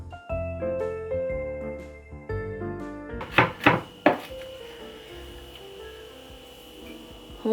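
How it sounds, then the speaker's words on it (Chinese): Garlic chopped with a knife on a board in a home kitchen, three sharp close chops in quick succession after a stretch of music, followed by a faint lingering hum. "把蒜头切碎。"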